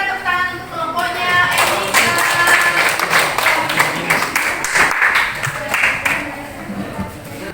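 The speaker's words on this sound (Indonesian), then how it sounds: "silakan berikan tepuk tangan untuk kelompoknya" Applause in a classroom for a student group, steady clapping from many hands that starts after a brief voice and keeps going at an even level.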